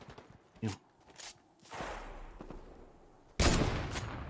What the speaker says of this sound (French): Ça tire dans tous les sens, mais je sais pas où ça tire